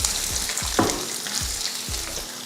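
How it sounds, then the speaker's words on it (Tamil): Chana dal and curry leaves fry in hot oil for masala dosa filling, a steady close sizzle broken by a few sharp spatula taps against the pan, with no talking. "லைட்டாக பருப்பு பொன்னிறமாக வரட்டும்"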